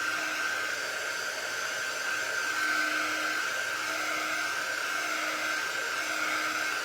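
A hair dryer blowing steadily to dry chalk paint on a canvas, a continuous close, loud whooshing airflow with a steady high whine, running alone throughout.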